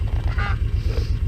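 Farm ducks give a couple of short, nasal quacks close by, heard alone over a low steady background hum.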